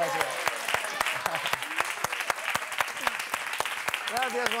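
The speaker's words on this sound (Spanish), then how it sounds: "¡Fuerte aplauso, al 10!" Studio audience on a Spanish flamenco music television show applauding steadily, with sharp individual claps and voices calling out over the clapping.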